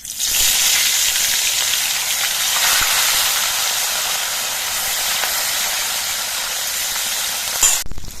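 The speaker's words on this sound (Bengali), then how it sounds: "আমি তিনটে করে মাছ একসঙ্গে দিয়ে ভেজে নিচ্ছি" Rupchanda pomfret fish fry three at a time in oil in a wok, making a loud, continuous hissing sizzle that barely changes for several seconds before a brief clatter near the end.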